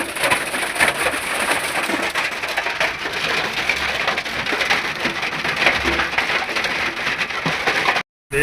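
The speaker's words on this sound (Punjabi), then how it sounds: "ਮਿੱਤਰੋ ਗੜੇ ਬਹੁਤ ਜ਼ਿਆਦਾ ਬਾਰਿਸ਼ ਹੋ ਰਹੀ ਹੈ" Heavy rain mixed with hail pours down in Saudi Arabia, a dense, loud, continuous roar of pelting and rattling impacts that runs unbroken until a brief cut near the end.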